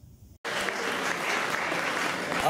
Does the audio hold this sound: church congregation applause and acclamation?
yes